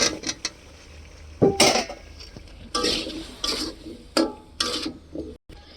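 Potatoes go into a spice masala in a pan for a potato, eggplant and lentil-dumpling curry, with a series of clattering metal spoon scrapes and knocks against the pan in short, uneven bursts.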